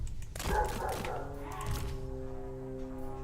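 A dog gives a short burst of barks and yips, moderately close, followed by a fading whine over a faint steady hum.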